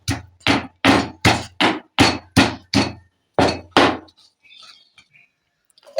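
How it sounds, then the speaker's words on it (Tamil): Shallots and garlic are pounded in a mortar, about ten heavy close thuds in an even rhythm, then a pause with faint handling sounds. "சிறிய வெங்காயத்தையும் பூண்டையும் இடிச்சுக்கிறோம்"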